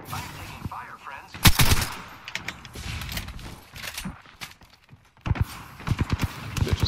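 Video game gunfire comes in sharp bursts of loud, rapid shots with quieter gaps between them, mixed with game sounds and some talk.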